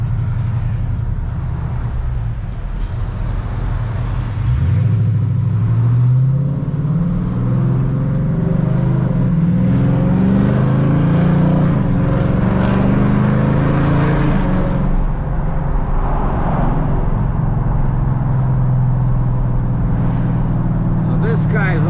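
Dodge Charger R/T with a 5.7L V8 accelerating in second gear, a loud, close engine roar rising steadily in pitch over a long pull, under occasional talk.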